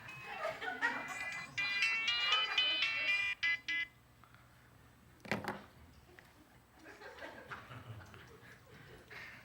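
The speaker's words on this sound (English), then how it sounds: "That's my cell phone." A cell phone ringtone plays as a bright melodic electronic tune for a few seconds and then cuts off, with people chuckling and laughing in a room.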